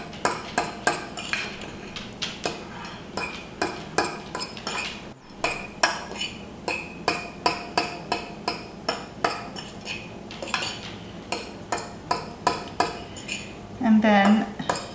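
Metal utensil breaking up cooked grains for taboulé in a bowl, giving regular sharp clinks and scrapes against the bowl, close and steady over the whole stretch, with a short rough scrape near the end.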